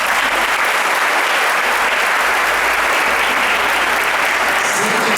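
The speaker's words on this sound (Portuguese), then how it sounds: "uma salva de palmas" Loud, sustained applause from a crowd honoring the makers of a Corpus Christi street carpet in Batalha, Piauí, steady and dense throughout.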